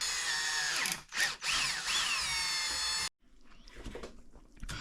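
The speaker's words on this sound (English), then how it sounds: "you're going to have to drill out that hole to be just a little bit wider" A power drill widening a hole for a shock tower install on an RC car whines at high speed for about three seconds with brief dips in pitch, then stops, followed by quieter handling noises.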